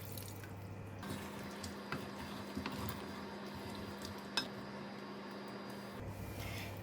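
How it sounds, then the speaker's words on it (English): Water trickles and drips into a pot of chicken kurma curry, a faint, wet splashing over a low steady hum, with a few small clinks along the way. "I'm going to add a bit of water, about 1 cup of water."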